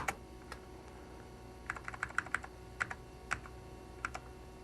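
Computer keyboard typing while entering text in AppleWorks: a couple of isolated keystrokes, then a short irregular burst of crisp clicks, close and clear over faint room hum.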